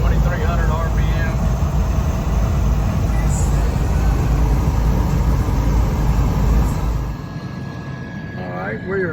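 A 1964 Chevrolet Corvette coupe with a 327 L79 V8 and 700R-4 overdrive automatic cruises at 80 mph and 2,300 rpm, giving a loud, steady engine and road drone throughout that eases slightly near the end, with a voice faintly over it.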